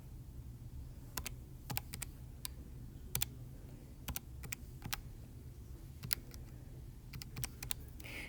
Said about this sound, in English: if I type that in